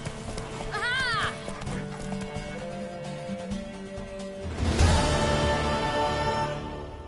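A horse gallops in The Witcher video game, with rapid hoofbeats and a whinny over game music, growing louder and busier toward the end as a voice urges it on.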